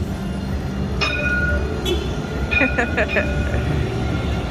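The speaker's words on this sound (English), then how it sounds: "Oh, here comes the train. Let's get out of the way. Actually, it's a tram." A VLT tram rumbles past close by with a low continuous roar, punctuated by metallic clinks and squeals from the wheels on the track.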